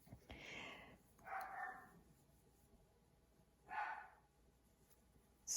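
A dog barks somewhere outdoors in the distance, apparently at a deer, giving three faint muffled barks spaced over a few seconds against a quiet background.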